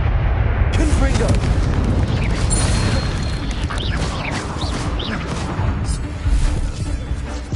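Confringo explosion spells cast in the video game Hogwarts Legacy, loud booming blasts merging into a continuous roaring crash, with a person talking over the din.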